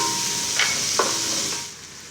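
Ginger and garlic paste sizzles softly in a pan, a steady frying hiss with two brief scraping stirs partway through, fading slightly at the end.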